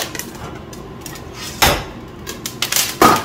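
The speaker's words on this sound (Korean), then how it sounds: "빡빡빡 소리 나죠?" Coffee beans roasting in a very hot pan at home give sharp, irregular cracking pops, several close, loud snaps standing out over a low background, with no talking.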